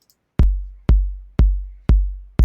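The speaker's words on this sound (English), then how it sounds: "my percussion sounds are electronic" Electronic percussion from Chrome Music Lab Song Maker, playing five evenly spaced, punchy low kick-like hits about half a second apart, each decaying quickly, alone with no talk.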